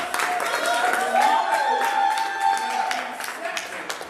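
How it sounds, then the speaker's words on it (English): Clapping from a live audience at a comedic courtroom-themed performance, moderate scattered applause mixed with a sustained tonal hum and crowd murmur, fading slightly toward the end. "All right, big round of applause."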